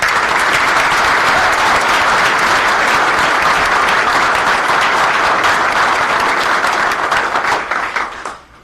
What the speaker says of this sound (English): The family members deserve a round of applause, so let's give them a round of applause.